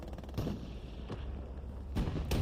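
Several heavy booms of tank fire in Hell Let Loose thud at spaced intervals, distant and muffled, over a low rumbling battlefield background.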